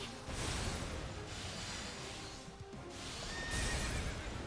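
A horse whinnies in Fire Emblem Warriors: Three Hopes, giving loud, clear neighs with clip-clop hoofbeats underneath across a few seconds of gameplay.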